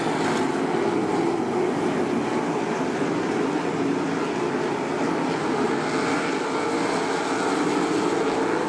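305 sprint cars racing at Attica Raceway Park, a dense continuous engine roar that holds steady without letting up.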